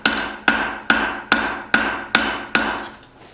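Seven evenly spaced hammer blows ring out on a spring steel knife spine at the anvil, each a sharp, close metallic strike with a short decaying ring.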